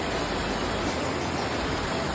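A stream of water runs in a jungle in Kokan during a trek, a continuous close broadband rush of flowing water with no voices.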